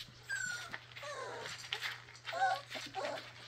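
Several young puppies whimper and yip in soft, broken bursts close by, with a faint steady hum running under the cries.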